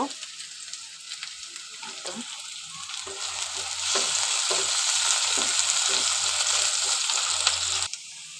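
Dried fish (shutki) and a generous amount of onion sizzling in a pan, a steady frying hiss that grows louder partway through, with a few soft stirring clicks and no talk.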